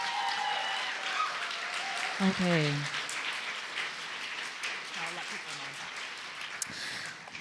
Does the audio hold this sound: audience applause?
yes